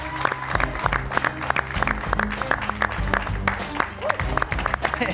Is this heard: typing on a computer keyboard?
no